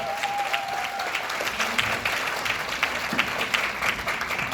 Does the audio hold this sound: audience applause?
yes